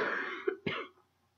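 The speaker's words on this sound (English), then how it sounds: "Man, I've been coughing a lot lately." Two short, harsh coughs a moment apart, close and fairly loud, followed by quiet.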